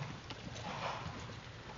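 Hooves of a big 20-month-old yearling Thoroughbred colt moving in a circle with light bit pressure, giving faint, soft footfalls in a steady rhythm against low background noise.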